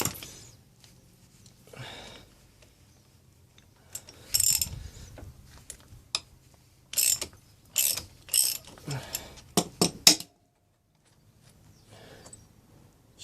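A motorcycle chain riveting tool is tightened by hand in a quiet workshop, close rapid ratchet clicks in short bursts separated by pauses, ending with a sharp metallic snap.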